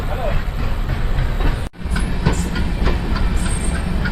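Kulik Express with LHB coaches running after leaving Bardhaman Junction, a steady loud rumble of wheels and rails throughout, with a brief dip near the middle and faint voices under the noise.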